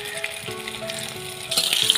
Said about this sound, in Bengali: ভালো করে লেড়ে নেবো, আমি লাল করে ভেজে নেবো